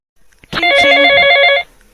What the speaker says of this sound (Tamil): முதல்ல ஃபோனை போட்டு பிரகாஷ் எங்கே இருக்கு அப்படின்னு கேட்கலாம்.